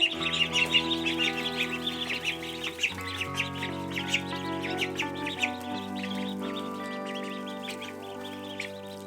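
Ducklings peep continuously in a rapid, high-pitched chorus close by, over a steady low background hum, with no voices heard.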